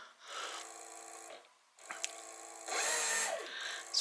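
A servo motor fitted to a Singer 111 sewing machine runs at speed with a whirring mechanical hum. It cuts out briefly, then spins back up and rises in pitch and loudness as it accelerates.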